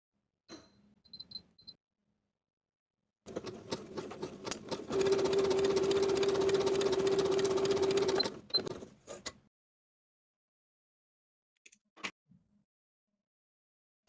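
A sewing machine runs steadily for about five seconds, stitching darts in a swimsuit with a narrow zigzag stitch. Softer clicks and handling noises come before and after the run.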